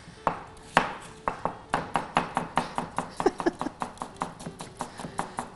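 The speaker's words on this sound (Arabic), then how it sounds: "هسه قطعنا البصل بهذا الشكل" A knife chopping onion on a cutting board: a quick, even series of about twenty close, crisp strikes that speed up into a steady rhythm.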